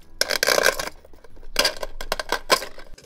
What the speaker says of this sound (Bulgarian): Ръчна дробилка за лед.